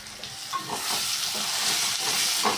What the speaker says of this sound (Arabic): ونخلي البصله تقلى مليح، البصله والخضره اللي حطيت معاها